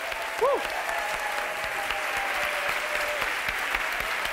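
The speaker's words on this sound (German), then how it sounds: "Einen kräftigen Applaus" An audience at a talk applauds steadily to welcome the speaker, a dense, even wash of clapping throughout, with a brief whistle-like tone near the start rising above it.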